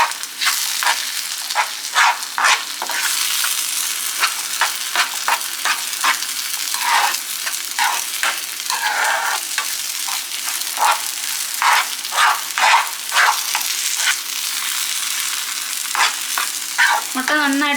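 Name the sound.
stirring frying egg with onion and tomato in pan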